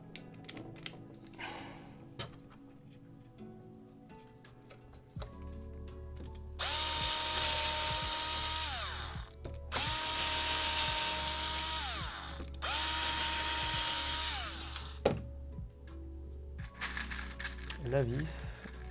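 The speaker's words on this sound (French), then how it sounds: "Hop, on fait des trous." A power drill bores holes during a DIY photo box build, three sustained whirring bursts of a few seconds each with brief pauses, fairly loud and close, preceded and followed by quieter clicks and handling noise.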